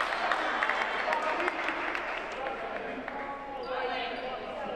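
A referee's whistle at a girls' high school basketball game, Sunapee vs Newmarket, sounds as a thin, steady tone near the end over constant gym crowd noise and bouncing balls.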